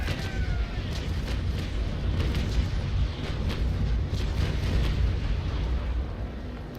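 Ship cannon broadsides from the Naval Action sailing-warship game roll on as a dense, sustained low rumble of overlapping booms with crackling bursts, loud and continuous, with no speech.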